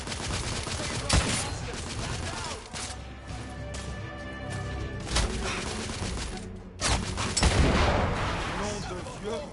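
Heavy gunfire rages in The Order 1886, dense volleys of shots and crashing impacts surging in loud bursts and falling away in between.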